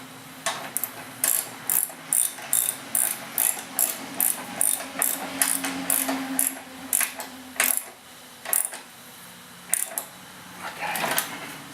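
A ratchet clicks in a steady run of quick, even strokes while tightening the shoe on an Ariens 926LE snowblower, close and crisp, then slows into a few spaced clicks near the end.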